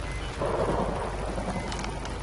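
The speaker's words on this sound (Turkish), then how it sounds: "Çok kötü yağmur yağıyor." Steady rain in the horror game Outlast, a dense close hiss of falling drops with a faint low rumble underneath, continuous throughout and without speech.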